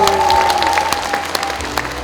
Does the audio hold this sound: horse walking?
no